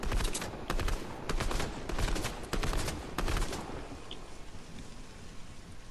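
Rapid automatic gunfire in a multiplayer duos shooter game, loud bursts of spraying shots in clusters over the first few seconds, then fading to a softer rumbling background.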